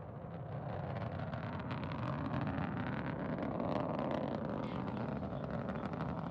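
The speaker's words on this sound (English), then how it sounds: "Liftoff of Progress 83, the next vehicle in the supply chain to the International Space Station" A Soyuz rocket carrying the Progress 83 cargo ship lifts off from Baikonur, a continuous heavy roar with crackling texture that holds steady and loud, heard without voices.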